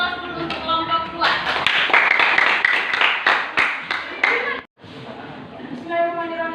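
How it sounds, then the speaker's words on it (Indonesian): Classroom applause for a student group after their presentation: dense, steady clapping from many hands for about three seconds, framed by children's and a teacher's voices speaking before and after. "kita beri aplaus dulu untuk kelompok 2"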